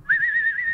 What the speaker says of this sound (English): give him a little whistle.